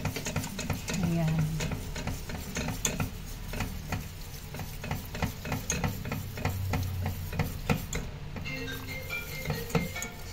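A spoon stirs white sauce with evaporated milk in a pan, with continuous scraping and clinking against the metal, a soft sizzle underneath and faint voices in the background.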